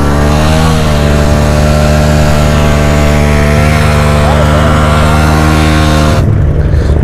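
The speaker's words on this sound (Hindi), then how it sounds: "तगड़ी तगड़ी बाइक आई।" Powerful superbikes riding past on a Delhi-area road, a loud, close engine drone with rising revs that holds steady for several seconds before cutting away abruptly near the end.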